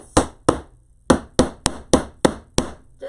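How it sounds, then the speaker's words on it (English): A hammer strikes staples in a craft project, eight sharp, loud, close metallic knocks at an irregular, fairly quick pace, each with a short ringing decay, no talking. "So I always take a hammer and hammer my staples."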